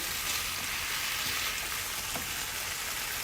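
Pepper shrimp pan-frying hiss and sizzle in a steady, bright crackle, close and continuous with faint pops, no voices over it.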